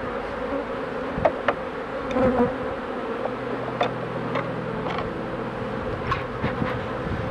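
Honeybees buzz in a steady, moderately loud drone at an apiary on a very hot day, with the colony close to swarming; a few individual bees pass close by.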